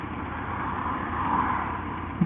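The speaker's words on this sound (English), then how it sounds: "bike's warming up nicely" A motorbike engine idling as it warms up after standing unused for nearly a week, producing a steady low rumble with a slight swell partway through. It runs alone with no talk.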